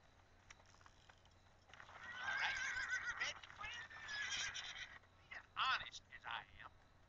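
A horse in a video game whinnies twice, a long shrill neigh followed by a shorter one, over a quiet low hum.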